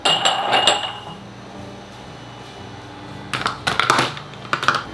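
Balsamic onion jam boiling hard in a pot with bay leaf, a low simmering hiss behind a cluster of sharp spoon clinks and scrapes against the pot toward the end, close and with no talking.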